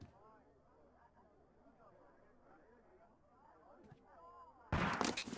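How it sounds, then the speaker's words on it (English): A gunshot in the video game Sherlock Holmes: Crimes and Punishments arrives as a sudden loud blast near the end, after a long stretch of faint, murmuring game ambience. "That was a gunshot."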